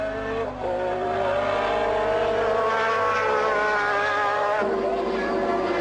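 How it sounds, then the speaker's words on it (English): Formula One cars from 1986 race at the Brazilian Grand Prix, a loud sustained high engine whine with harmonic pitch that shifts slightly as cars pass, with no voices. "From ninth on the grid, he went past Johansson into fifth place."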